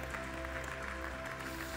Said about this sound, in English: would you give all of these parents a great hand clap?